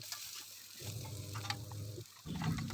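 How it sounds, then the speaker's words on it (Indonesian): Shallots sizzle in hot oil in a pan, with lemongrass going in for a kupat glabet dish from Central Java. Steady close frying crackle comes in bursts, with soft stirring noise between them and no talk. "lalu tumis dulu bawang merahnya"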